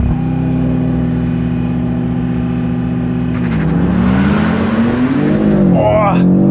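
A BMW M2 and an Audi RS3 accelerate hard side by side in a 700-meter drag race, engines droning steadily before climbing in pitch through gear changes, loud and close with wind noise.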